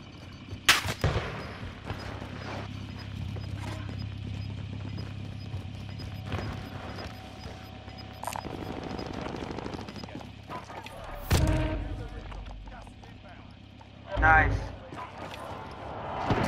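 Gunfire and airstrike explosions in a video game: scattered distant shots and rumbling blasts, with heavier booms late on, under a steady low drone and chatter between players.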